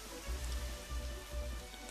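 Rain in the Minecraft video game falls as a faint, steady patter of drops with a soft low pulsing underneath, alone without speech.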